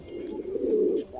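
Paired working pigeons, including homing-type birds, coo in a steady low warbling run, close and moderately loud, with no talking over it.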